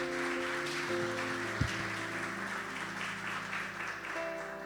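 Church congregation applauding during a Spanish-language sermon, a steady, moderately distant wash of clapping with a faint hum underneath and no voices over it.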